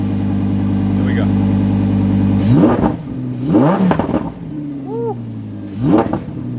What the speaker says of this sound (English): this is gonna be a rev inside of the car right here.